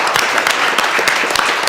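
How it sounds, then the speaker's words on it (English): Sustained audience applause fills the whole short stretch, a dense, even wash of many hands clapping at once, fairly loud and close. "I think that should be applauded"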